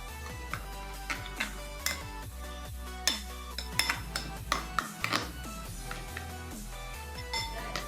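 Eggs being beaten in a bowl with a metal utensil for bread omelette, a close run of quick, uneven clinks and taps against the bowl, with no one talking.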